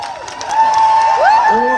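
A crowd of doctors at an outdoor rally whoops and cheers, with rising whistles and shouts building into a sustained, fairly loud roar over scattered clapping.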